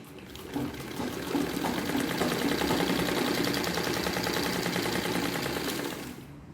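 A sewing machine stitches the round base of a homemade grow bag made from waste materials, running in a steady, loud, continuous whir for about six seconds after a brief start, with no talking.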